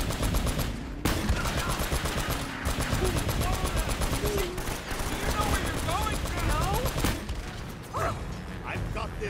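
Rapid gunfire bursts crackle almost nonstop during an on-rail shooting stretch of Uncharted: Drake's Fortune, loud and close with mechanical clatter, over game dialogue and a talking voice.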